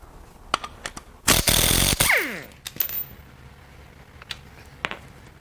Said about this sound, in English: Time to pull the crank pulley.